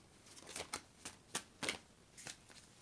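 Oracle cards being shuffled by hand give a series of crisp, close riffling flicks in short irregular bursts. Nothing else is heard in the background.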